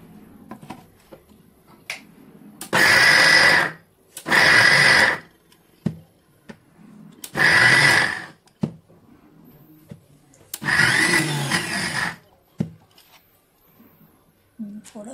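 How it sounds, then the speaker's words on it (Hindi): A kitchen mixer grinder coarsely grinds green chickpeas in four loud whirring bursts of a few seconds each, separated by quiet pauses with faint voices in between. "आराम से मिक्सी चलाएंगे।"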